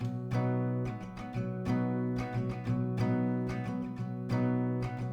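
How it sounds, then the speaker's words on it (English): Steady acoustic guitar strumming of chords in a down-up pattern, ringing and full, with strong rhythmic accents repeating through the passage and no voices. "if we just go on with the strumming, it will sound like this."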